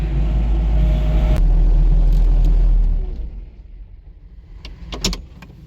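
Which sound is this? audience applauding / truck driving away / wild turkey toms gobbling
truck driving away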